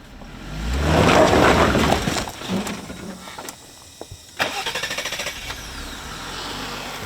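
A bone-stock Jeep Wrangler JL two-door Sport engine swells as the clutch is let out on an off-road climb, then settles into a rhythmic chugging pulse under a low rumble.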